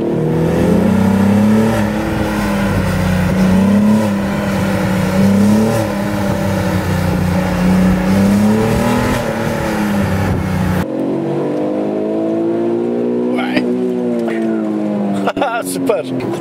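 An Alfa Romeo GT with a 3.2 V6 Busso engine revs hard in second gear, loud and close. The engine note rises and falls in repeated swells, then drops to a lower, rougher tone near the end.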